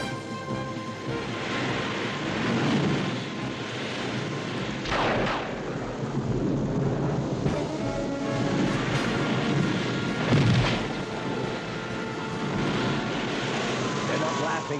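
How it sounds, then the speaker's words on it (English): Thunder rolling during a storm in an animated Noah's Ark tale, deep rumbling swells that rise and fade repeatedly, with voices speaking over parts of it. "It's only the thunder."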